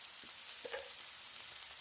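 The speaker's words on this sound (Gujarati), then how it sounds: "સોયા સોસ નાખું છું" Soy sauce hits a hot pan of baby corn Manchurian with a steady close sizzle, a few soft knocks and a short burst near the middle, and no voices over it.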